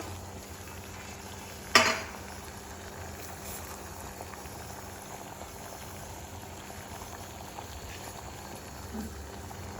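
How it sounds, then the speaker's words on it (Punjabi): Water boils steadily in a pot beneath a sieve used to steam sprouted lentils, giving a low continuous bubbling hiss with one sharp clink of a utensil near the start. "ਸਟੀਮ ਵਾਸਤੇ ਆ ਦੇਖੋ ਮੈਂ ਇੱਕ ਛਾਨਣੀ ਦੇ ਵਿੱਚ ਪਾਣੀ ਪਾ ਕੇ ਰੱਖਿਆ"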